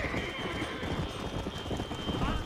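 Horse hooves clip-clop rapidly at a gallop in the video game Red Dead Redemption, with a whinny and a running rhythm over steady game ambience, and players talking over it.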